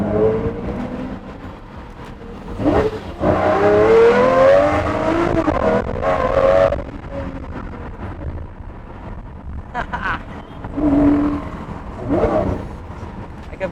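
A Lamborghini Murcielago LP640 in Manila revs repeatedly through upshifts and downshifts, its engine note climbing and falling in several surges under wind buffeting on the microphone.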